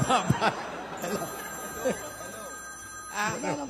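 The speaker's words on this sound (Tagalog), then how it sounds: "Telepono ko yan." A phone rings with a steady electronic tone behind people talking and laughing nearby, the ringing continuing through the chatter.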